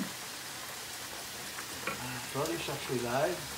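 Onion fries in a pan with cold tomatoes for spaghetti with clams, giving a constant dense close sizzle like light rain that swells slightly near the end while a voice murmurs faintly beneath.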